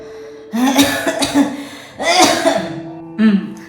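Several harsh coughs in close succession, then a pause and another burst of coughing, with a brief shorter cough near the end, close and loud.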